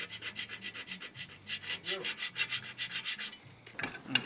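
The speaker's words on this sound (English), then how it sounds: "He's trying to shave some pieces of rust to add in." Rust is shaved off by hand in a quick, rhythmic series of rasping scrapes. The strokes sound close and fairly soft, with a short clatter near the end.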